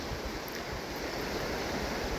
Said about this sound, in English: You can tell that the water's still quite actively flowing